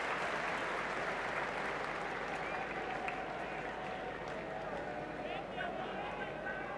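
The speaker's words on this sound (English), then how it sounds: "That brings up his half-century, and he gets the appropriate applause, mainly from the English folk in the crowd" Cricket crowd at the Sydney Cricket Ground applauding a batsman's half-century, a sustained wash of clapping from a large stadium audience heard at a distance beneath a commentator's voice.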